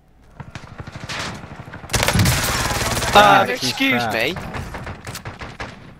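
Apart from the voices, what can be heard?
gunfire from people shooting in a video game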